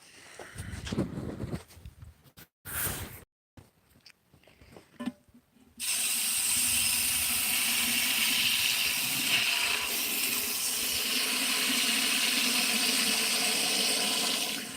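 Water rushes steadily through the deck of an 1980s Cub Cadet mower being flushed out, a loud continuous hiss after a few seconds of scattered clunks and handling noises.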